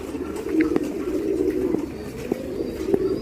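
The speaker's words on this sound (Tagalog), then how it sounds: "So silipin natin yung ibon ni Brother Doc Jojo." A pigeon coos in a low, soft rumbling phrase heard close by, recurring across a quiet indoor space with faint background clicks and no talking.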